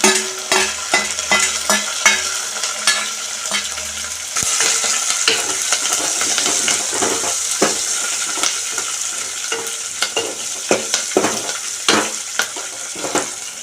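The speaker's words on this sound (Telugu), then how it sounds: "పోపు అయితే వేగుతుంది ఈసారి ఉల్లిపాయ కరివేపాకు కూడా వేసేసుకుంటున్నాను" Onions and curry leaves sizzle and crackle loudly in hot oil for a tempering, joined by scraping stirs and sharp clicks of a spoon against the pan, with no one talking.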